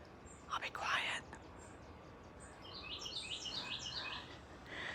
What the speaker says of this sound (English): Isn't that appropriate that I'm hearing a bird right now?